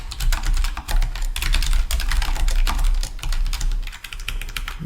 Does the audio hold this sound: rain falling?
no